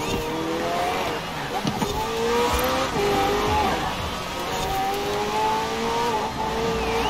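Racing car engines from Forza Horizon 4 roar and rev continuously, with rising and falling pitch sweeps as cars accelerate and shift, loud and steady throughout, with a Lego Senna among the field.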